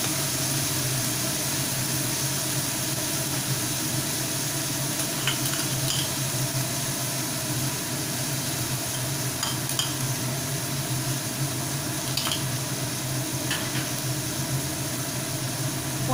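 Sliced onions with chopped green chillies fry in a hot pan for a spicy egg and brinjal dish, giving a steady, unbroken sizzle with occasional light clinks of stirring and no talking.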